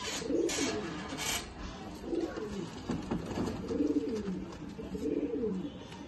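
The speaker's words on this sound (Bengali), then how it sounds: "দেখো দারুণ পায়রা" Pigeons in a home loft cooing softly in repeated low, rolling phrases, faint and fairly close, with a little background noise.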